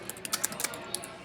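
Typing on a computer keyboard, a quick irregular run of close, sharp key clicks over a faint steady background hum, no talk.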